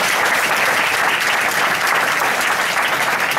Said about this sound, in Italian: Grazie a tutti, un applauso ancora.